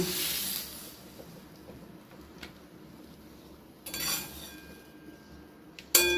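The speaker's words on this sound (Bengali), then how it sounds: "সিম টমেটো দুটোকে কড়াই থেকে বের করে প্লেটের মধ্যে প্রথমে একটু রেখে নিই ঠান্ডা হওয়ার জন্য" A spatula scrapes and clinks against a metal wok as fried flat beans and tomato are moved onto a plate, with quiet pauses between a few sharp metallic knocks and scrapes.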